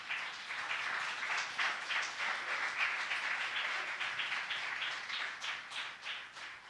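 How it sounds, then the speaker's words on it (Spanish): A church congregation claps together in a sustained round of applause, many hands at a brisk, even pace, moderately distant and steady before tapering slightly at the end, with no speech. "Denle un fuerte aplauso al nombre del Señor."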